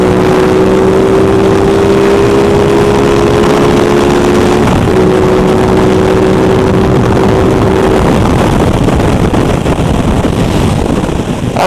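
An Aprilia RS660 sport bike engine drones steadily under heavy wind rush while riding. A brief dip mid-way marks a shift up into sixth gear before the engine note resumes, then the tone blends into wind roar.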